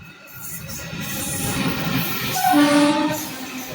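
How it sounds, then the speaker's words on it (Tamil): KSR Bengaluru–Ernakulam Intercity Superfast Express arriving at a station, a loud rumbling train approach with a horn tone sounding partway through over the rolling noise. "வந்துருச்சு Ernakulam KSR intercity super fast express."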